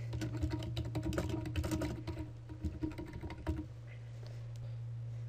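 Rapid, uneven keystrokes on a computer keyboard as a subject line is entered into an email form, close and fairly quiet, with clicks thinning out before stopping.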